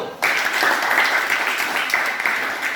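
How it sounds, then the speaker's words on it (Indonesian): Classroom applause from students for a presenting group, a dense burst of clapping that starts abruptly and continues at a strong, steady level close by. "Tepuk tangan untuk kelompok 1."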